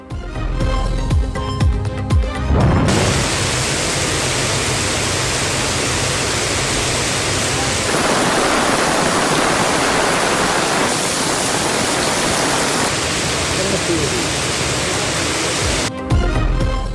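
Steady rain falling, a dense, loud and unbroken hiss that fills the clip with no voices.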